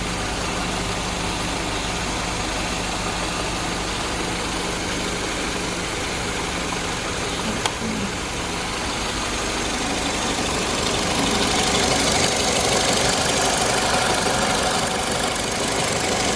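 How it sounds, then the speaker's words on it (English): Peugeot 207 car engine idling after an engine change, a steady continuous hum that stays even throughout with a brief click near the middle and a slightly brighter, louder stretch toward the end, with no talking. "Engine sound nice and quiet."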